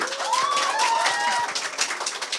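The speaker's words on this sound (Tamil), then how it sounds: "அப்ப தேவ் சாருக்கு ஒரு பலத்த கைத்தட்டல் கொடுத்து" An audience applauds Dev at a stage event with steady, dense clapping that lasts the whole stretch, and a shrill whistle-like tone cuts through early on.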